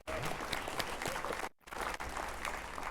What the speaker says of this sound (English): You can clap for that, absolutely.